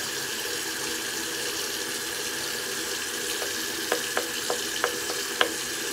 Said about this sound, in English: I'm gonna pour it out.